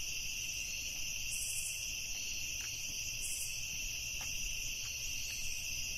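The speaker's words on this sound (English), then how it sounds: "Oh my god, them cicadas." Video game cicadas in a forest buzz in a steady, shrill drone. Faint pulsing swells and occasional soft clicks sit beneath the constant insect whine.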